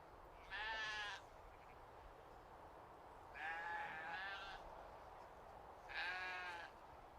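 Lambs at a livestock show give three separate wavering bleats, a few seconds apart, moderately close over a faint background hum.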